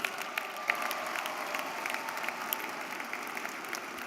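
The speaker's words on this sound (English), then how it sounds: "Give them a round of applause, would you please?" Steady, dense applause from a large audience at a December college commencement ceremony, with sharp individual claps standing out over a continuous wash of clapping that holds at an even level throughout.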